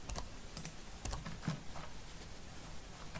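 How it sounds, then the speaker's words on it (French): A computer keyboard key is pressed with soft, faint clicks in a quiet room, a few light taps spread across a few seconds. "Et j'appuie sur supprime de mon clavier."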